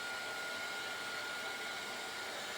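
A hair dryer blows air over a handmade tea bag folding pixie sparkle card on a craft mat, a steady broadband whoosh close by that holds without a break and with no talking.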